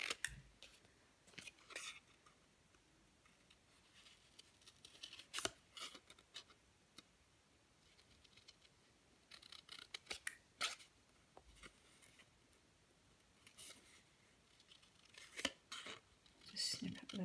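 Quiet, irregular snips of scissors cutting paper, short crisp bursts scattered throughout, close by with faint rustling between cuts.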